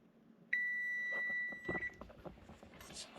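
An oven timer set while baking lemon basil cookies gives one long, clear electronic beep, followed by quiet kitchen clatter.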